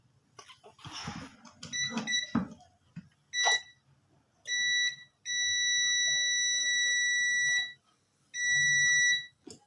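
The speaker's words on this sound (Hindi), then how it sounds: "अभी हमारे क्लैम मीटर में बीप आ जाएगी।" A clamp meter's continuity beep as a Dungs gas pressure switch closes, a steady high electronic tone sounding in several long beeps, the longest about two and a half seconds, after some handling clicks and rustling, close and loud.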